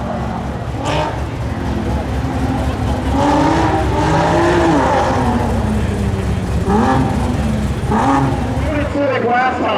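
An Audi and a Nissan 370Z accelerate hard at a spectator drag racing meet in North Carolina, engine notes rising and falling through several gear changes, loud under a steady stream of excited commentary.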